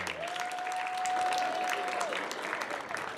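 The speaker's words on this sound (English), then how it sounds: "Let's give them a round of applause." Audience applause at a school athletics banquet honoring academic all-star teams, a steady wash of many hands clapping at moderate volume for about three seconds, with a sustained tone running through the middle.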